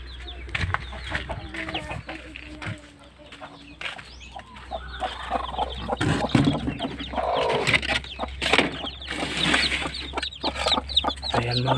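Roosters and hens clucking in a farmyard where chickens are bred. Overlapping clucks and calls sound close and fairly loud, with brief crowing among them, and a steady low hum runs underneath.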